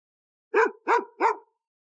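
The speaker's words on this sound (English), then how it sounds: "Hello, dog." A dog barks three times in an even rhythm, short clear barks close by against silence.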